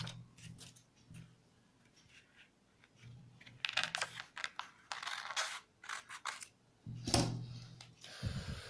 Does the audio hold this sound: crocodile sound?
no